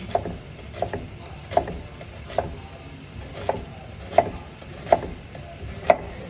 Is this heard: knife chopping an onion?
yes